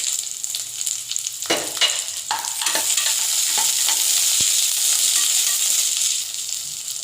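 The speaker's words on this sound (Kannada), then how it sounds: "ಪಡವಲಕಾಯಿನ ಹಾಕ್ಕೊಂಡು ಚೆನ್ನಾಗಿ ಎರಡು ನಿಮಿಷ ಫ್ರೈ ಮಾಡ್ಕೋಬೇಕು" Ridge gourd pieces frying in oil with onion and mustard seeds, a steady broad sizzle with intermittent scraping stirs of a spoon against the pan, close and fairly loud throughout, no talking.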